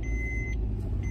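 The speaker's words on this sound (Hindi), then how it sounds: "गाड़ी चल गई अपनी" A car heading out on an early morning drive to a service appointment, a steady low engine and road rumble throughout, with a faint high electronic tone running over it.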